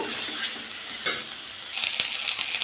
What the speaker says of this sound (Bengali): ভালোভাবে আমি তিলটাকে এর মধ্যে ভেজে নেব